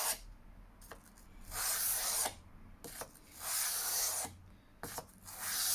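Knife sharpening on a Scandinavian grind blade, about four long rasping strokes across a sharpening stone with quiet pauses between them, steady and close.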